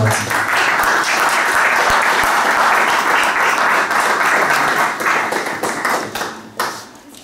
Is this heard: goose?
no